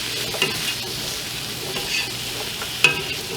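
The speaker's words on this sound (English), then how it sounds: "Onions and garlic are all in the pan." Onions and garlic sweat in a pan for a cornbread chili casserole: a short, even sizzle close by, punctuated by a couple of sharp utensil clicks.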